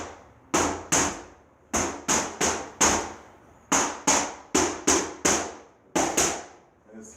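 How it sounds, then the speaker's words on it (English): Butt end of a hammer tapping a vinyl window's glass pane during a retrofit install, a series of about thirteen sharp, loud, close knocks in uneven clusters, each ringing briefly before fading, with no talk. "I'm going to take my hammer, the back butt of my hammer"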